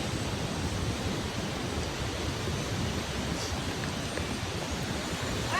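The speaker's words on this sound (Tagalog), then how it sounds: "This is the Dayanas Rock Falls." Rushing water at Dianas Rock Falls, a waterfall, pours as a steady, dense broadband roar that fills the whole clip without pause, loud and close with no voices.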